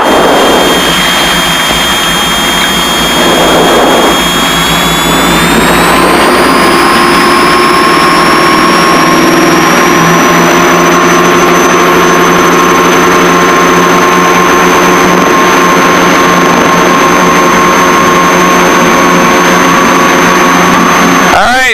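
Twin engines of a Piper Seneca roar steadily at full power through the takeoff roll, with a loud continuous drone and rising whine that holds throughout.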